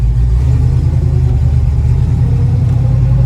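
A 1969 Chevrolet Camaro engine runs steadily, a loud, deep, continuous rumble with a throbbing low pulse and no breaks, heard up close.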